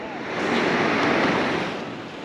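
Steady, roaring wash of sea waves and wind in the Bay of Bengal during a boat ride off Danavaipeta beach, a broad continuous rush rising and easing slightly.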